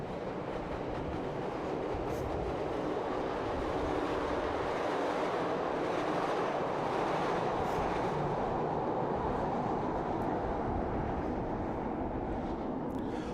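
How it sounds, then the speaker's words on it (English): A train rolls past near the United Center in Chicago, a continuous heavy rumble and rattle of rail cars that stays loud and steady for over thirteen seconds, with no voices. "Boy, Kenya, would a train stop look good right here, huh"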